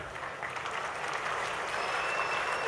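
A large audience at a lively public gathering with a revered swami present claps loudly and continuously, a dense, sustained wash of applause with no talking.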